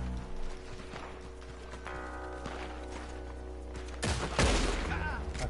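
Gunfire in the video game Red Dead Online, a series of rapid shots and mechanical clicks, with a louder burst near the end over faint game background noise.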